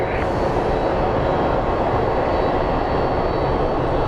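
A loud plane on the runway at Phoenix Sky Harbor airport, a dense, steady engine roar close by that holds for the whole stretch without pause.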